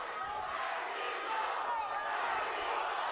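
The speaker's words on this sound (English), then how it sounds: "You hear the crowd yelling, Mercito" A boxing crowd yells and roars at a fight, a dense, continuous wall of shouting voices at moderate volume without clear individual words.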